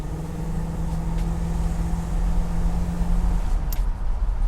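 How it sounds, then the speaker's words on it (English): A 1965 Buick Riviera Grand Sport with a 425ci dual-quad V8 pulls hard on the road, its steady engine drone and road rumble filling the cabin and rising as the throttle opens. "You can hear the secondary carb open up when you give it gas."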